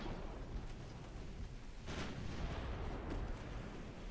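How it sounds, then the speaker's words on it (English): A battleship fires a heavy artillery salvo in the naval game Ultimate Admiral Dreadnoughts, a low rumbling boom that rolls on under a sustained roar, with another distant thump following. "Second salvo away from the Cormoran."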